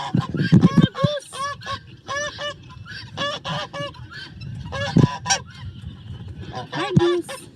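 A goose on a farm honks loudly and repeatedly in quick, uneven bursts of close, nasal calls, with barnyard noise around it and no talk.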